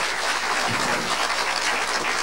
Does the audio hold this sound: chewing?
no